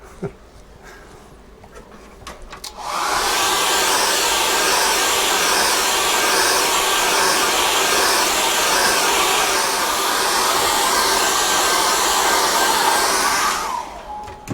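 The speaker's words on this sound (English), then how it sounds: "I'm going to hit that with a hairdryer" A hair dryer switches on and blows with a steady loud whooshing roar for about eleven seconds, drying acrylic paint, then cuts off.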